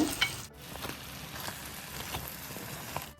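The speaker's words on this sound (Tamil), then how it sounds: "நண்டை 4 நிமிஷத்துக்கு நல்லா இந்த மசாலாவிலேயே வதக்கிக்கணுங்க." Crab sautés in masala for a Tamil nandu kulambu, crab curry, a close steady sizzle of frying with periodic scraping strokes as the pan is stirred, and no voices.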